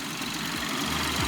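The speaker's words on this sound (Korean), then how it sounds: "요거 204마력짜리 엔진인데" A Hyundai Elantra Sport's 204 hp turbocharged GDI engine idles with a steady, even hum and a low rumble underneath, recorded close by with the hood open and no one talking.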